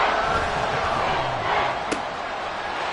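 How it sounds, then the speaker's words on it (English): A football stadium crowd roars steadily ahead of a big third-down play, a dense, continuous wash of cheering with one sharp accent partway through. "the crowd getting into it as we come up on a big 3rd down"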